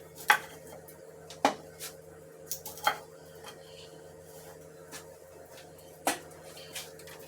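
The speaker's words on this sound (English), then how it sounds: "Next we're going to chop some fresh broccoli." A knife chopping fresh broccoli on a cutting board in a home kitchen, a handful of sharp, separated knocks at irregular intervals, close and fairly quiet over a faint steady background hum.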